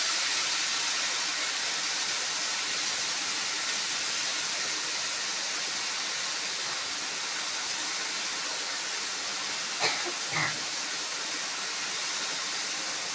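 Hot oil tempering for fenugreek greens hisses steadily in a pan, a continuous broad sizzle with a couple of brief knocks near the end.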